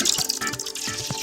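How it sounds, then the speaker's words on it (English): Molten iron poured into water sizzles and bubbles in quick, crackling bursts with dripping splashes, close and fairly loud, with no talk. "As the iron hits the water"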